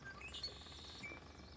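Birds chirping in a Hogwarts Legacy video game trailer, a few thin, high tweets and short calls scattered over a quiet low ambient bed, soft and somewhat distant.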